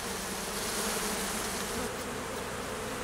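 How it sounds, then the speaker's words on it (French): Honeybees swarm and buzz densely around a hive frame being cleared at an apiary, a constant, close, even hum of many insects with no talk. "J'enlève les abeilles pour qu'il n'y ait pas de bagarre avec les autres là-bas."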